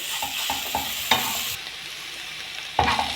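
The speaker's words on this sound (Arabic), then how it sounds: "انزل بنص معلقه من الثوم تاخد لها تشويحتين" Garlic and onions sautéing in a mix of oil and ghee, with rhythmic stirring scrapes and a bright sizzle, close by, pausing briefly before another stir near the end.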